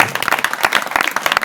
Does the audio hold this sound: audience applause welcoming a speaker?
yes